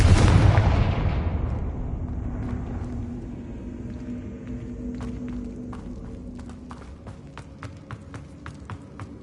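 A Confringo fire spell cast in Hogwarts Legacy bursts loudly at the start, leaving a long rumbling decay with a lingering hum, followed by scattered sharp clicks and crackles.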